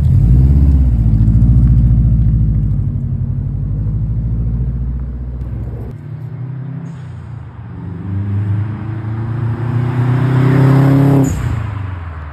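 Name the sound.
car being driven away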